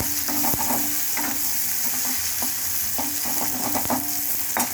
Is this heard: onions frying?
yes